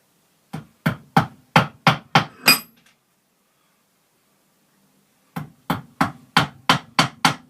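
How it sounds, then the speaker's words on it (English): A hammer is struck during basic carpentry practice, in two sharp, evenly spaced bursts of seven or eight loud, ringing blows each, separated by a few seconds of silence. "Got to practice how to use hammer."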